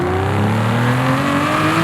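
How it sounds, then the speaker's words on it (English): An Aston Martin 177 engine in the racing game Forza Horizon 5 revs steadily, its loud, sustained tone climbing gradually in pitch with a continuous whirring drone and no voices. "Now, in Forza Horizon 5, the Aston Martin 177 sounds like this."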